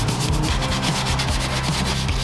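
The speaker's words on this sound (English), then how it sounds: "You're gonna go ahead and grab one of these cleaning brushes." A stiff cleaning brush scrubs and agitates grime around a car engine bay, giving a steady, close, rhythmic rubbing that continues without pause and with no talking.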